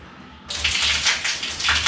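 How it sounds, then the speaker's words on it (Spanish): Water suddenly gushes out in a park with a hidden cave-like structure, a loud steady rushing hiss that starts abruptly and continues strongly to the end, with no talking. "Tengan cuidado con el agua, de repente sale el agua"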